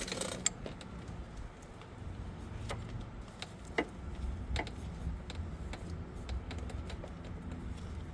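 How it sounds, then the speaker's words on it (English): A 10mm 12-point ratchet wrench clicks while loosening a fastener on the front axle of a 2006 Infiniti FX35 AWD, giving irregular close metallic ticks and short clicking bursts over faint workshop background noise. "It's the 10mm wrench, the 12-point ratchet wrench"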